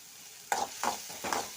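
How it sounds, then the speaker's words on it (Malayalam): Onion, green chili and ginger sauté in a pan for a kovakka pachadi, and three distinct stirring scrapes come in quick succession over a low background sizzle, close up. "ഇത് നന്നായിട്ട് ഇളക്കി കൊടുക്കാം"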